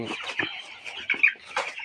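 A crowd of broiler chickens clucking and murmuring close by, a busy overlapping chatter with a few sharper calls rising above it.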